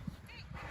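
Ranch dogs herding cattle down a hill: a brief, faint bark or yip over outdoor background noise, with a voice faintly present.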